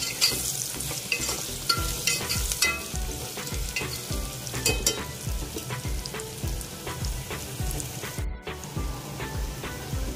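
Sliced onions and green chillies fry in oil with a little turmeric for tomato pulao, a busy crackling sizzle with repeated scraping stir strokes, up close and without voices.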